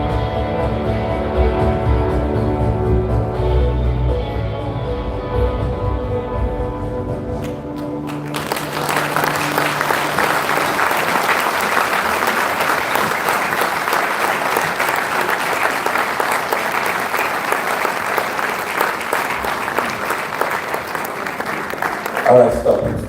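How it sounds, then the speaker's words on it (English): Audience applause at a 60th birthday symposium fills the room, with steady dense clapping that takes over from music in the first few seconds and carries on loudly to the end. "Can we have another round of applause again?"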